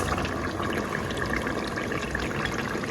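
Beaten egg poured into a simmering kontomire (cocoa yam leaf) stew sauce in a pot, a steady close wet trickling and splashing with no voices.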